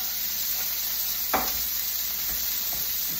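Steak sizzles in a pan with a steady, close, bright hiss throughout, broken by a brief scraping or stirring sound partway through.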